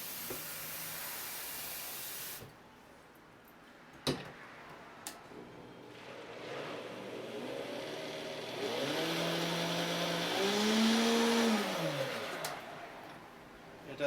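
A Vita-Mix blender clicks a few times, then its motor spins up into a loud rising whirring whine and winds back down, heard close.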